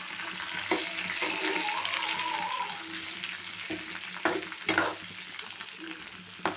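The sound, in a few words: tomatoes with salt frying and being stirred in a pan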